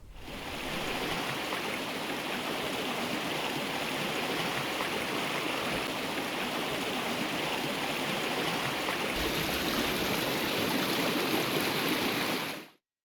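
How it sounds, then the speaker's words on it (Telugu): A stream in Nandyal district overflowing after heavy rain, a loud, dense, continuous roar of rushing floodwater that holds steady for about twelve seconds, then cuts off abruptly. "దీంతో సంజామల పాలేరు వాగు ఉప్పొంగి ప్రవహిస్తోంది"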